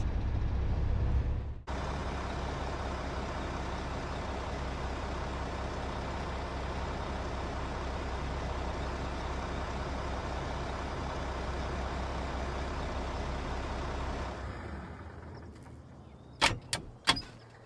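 A tractor pulling a trailer away in Farming Simulator 25, a steady loud engine drone running for many seconds before fading, then a few sharp clicks close by.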